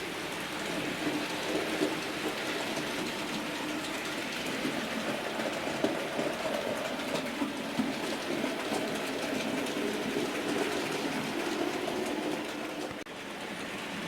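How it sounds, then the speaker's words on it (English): A Bachmann model heavy coal train hauled by a 31-531 "Trimbush" locomotive rolls steadily along the track, a continuous faint rumble and rattle with no talking. "And here comes the heavy coal train."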